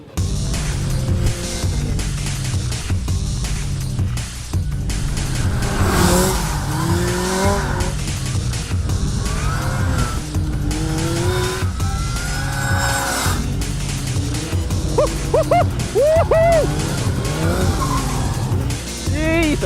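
An Ariel Atom 3.5R races hard on a wet track with engine revving and tires squealing, heavy spray and road noise mixed in, and occasional voices underneath.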